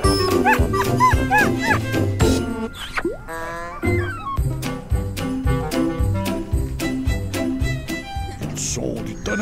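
Husky dogs in Lapland bark, yip and whimper in a lively, overlapping chorus, close and loud throughout with brief gaps, the yelps rising in pitch.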